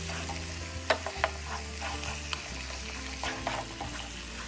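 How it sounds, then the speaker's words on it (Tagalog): Beef legs (pata ng baka) sautéing in a pan with browned garlic and onion for paksiw, a steady close sizzle with scattered clinks and scrapes of stirring, no talk. "medyo ma-brown na nga itong ating ginigisang bawang at sibuyas, kaya ilagay na itong pata ng baka."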